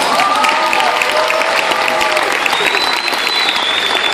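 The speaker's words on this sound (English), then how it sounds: "Let's give them a round of applause." Loud, continuous audience applause follows a school choir's song at a Christmas concert, the dense clapping mixed with cheering voices and a whistle-like tone, steady for the whole stretch.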